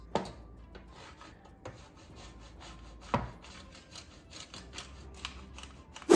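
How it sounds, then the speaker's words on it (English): Parmesan cheese is grated by hand, quiet repeated rasping strokes with a few sharper scrapes, close and faint with no talking. "Grating 3 cups of anything is tedious and dangerous to one's knuckles, and certainly that is the case with Parmesan"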